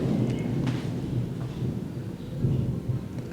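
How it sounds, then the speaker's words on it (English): Low, steady rumbling of distant thunder rolls on for a few seconds at an abandoned movie set in China, with rain hissing softly in the background. "Can you hear the thunder?"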